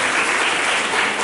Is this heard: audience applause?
yes